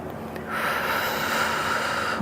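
One long, steady inhale drawn in through the nose during a pelvic floor exercise, close and airy with a soft hiss that holds for about two seconds.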